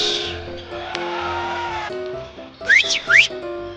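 A referee-style whistle imitated by a person: two short, loud, rising whistled tones near the end, following a stretch of background music.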